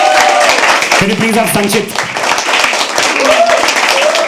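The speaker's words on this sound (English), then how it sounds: "Now start clapping for the next person." An audience claps at a poetry open mic, giving steady, dense, fairly close applause. A person speaks over it, and other voices chatter faintly underneath.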